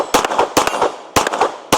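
Glock 34 pistol fired outdoors at a range: four sharp, loud, close shots spaced roughly half a second apart, each with a short ringing decay, with no talking.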